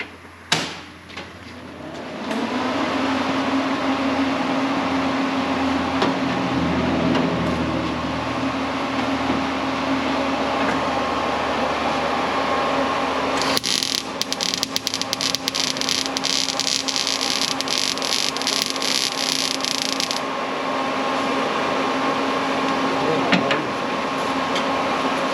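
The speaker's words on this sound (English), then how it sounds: "Turn our welder on." A welder running while a metal patch piece is welded into a car trunk: a steady buzzing hum through most of the stretch, with a harsher crackling burst in the middle section, fairly loud and close.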